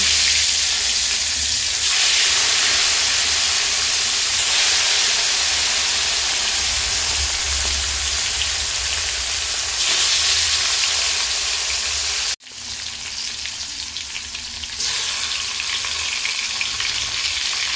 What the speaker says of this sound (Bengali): এবারে আমি এতে নুন হলুদ মাখিয়ে রাখা মাছগুলো দিয়ে দিচ্ছি।